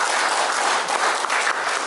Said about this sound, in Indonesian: Tepuk tangan buat Pak Teguh.